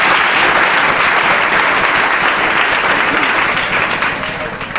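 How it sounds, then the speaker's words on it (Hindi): Loud studio audience applause on the Kaun Banega Crorepati game show set, a dense, sustained roar of clapping that holds strong and eases slightly near the end. "जोरदार तालियां हो जाए प्रीति जी के लिए।"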